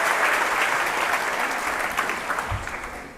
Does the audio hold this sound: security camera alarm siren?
no